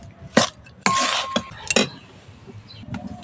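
Grated coconut and jaggery are stirred in a pan, giving several separate scraping strokes and metallic clinks, close and fairly loud, with quiet pauses in between.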